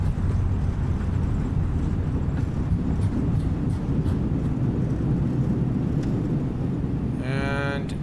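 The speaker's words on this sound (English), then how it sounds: "Reversers are out." Airliner thrust reversers roaring after touchdown on an Airbus A320 (FlyByWire A32NX) landing at Milan Malpensa in Microsoft Flight Simulator 2020, a loud, steady broadband engine rumble held for the whole stretch with a brief tonal chime near the end.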